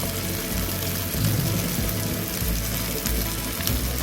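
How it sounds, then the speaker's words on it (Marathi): Lepa fish frying in a pan, a steady dense sizzle running throughout with low rumbling underneath, close and fairly loud, no talking. "मस्त इकडे फ्राय करायला लागलेली आहे"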